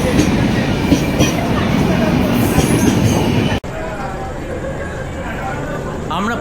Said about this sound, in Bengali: এই ট্রেনেই আমরা এখন কাটিহার যাব।